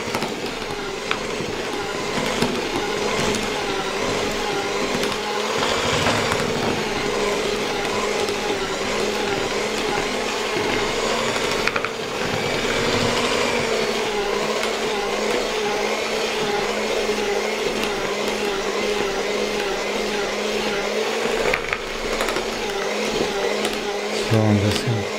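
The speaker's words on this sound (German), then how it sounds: "Ordentlich durchkneten mit den Knethaken hier." An electric hand mixer with dough hooks kneading bread dough in a bowl, a loud continuous motor whir with a steady droning hum and slight rattling, running without pause and shifting a little as the hooks move.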